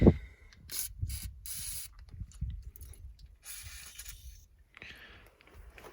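Short hissing bursts of aerosol spray on the bolts of a 1956 Dodge H6, several in a row, close by, mixed with faint scraping and rustling.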